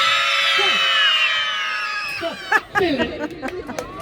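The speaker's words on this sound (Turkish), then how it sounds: "üç deyince çığlık atıyoruz" Crowd of children at a lively celebration shriek together in one sustained, loud, high-pitched scream, then break into scattered chatter, laughter and short yells as it fades.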